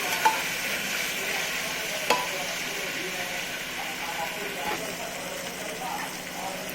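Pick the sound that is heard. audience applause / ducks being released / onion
onion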